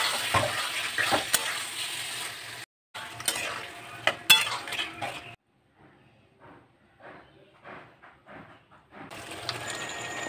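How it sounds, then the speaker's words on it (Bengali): Fried pointed gourd and potatoes are stirred in a pan, with scraping spoon strokes and soft sizzling that come in bursts separated by quiet gaps, close up and moderately quiet. "ভাজা পটলগুলো দিয়ে নিয়ে একটু কষিয়ে নেব।"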